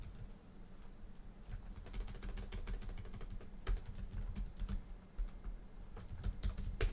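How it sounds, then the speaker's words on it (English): Quiet, rapid tapping on a computer keyboard, irregular bursts of key clicks over a low background hum, no voices. "tapping on a keyboard sounds so good"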